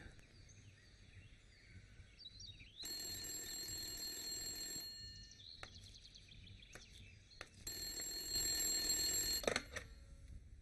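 A telephone rings for an incoming call in a Telugu film scene: two loud bursts of shrill electronic ringing separated by a quieter gap, with no voices.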